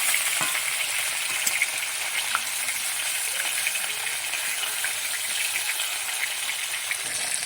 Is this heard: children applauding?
no